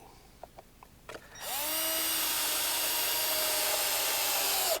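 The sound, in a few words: screwing wood screws into stair joists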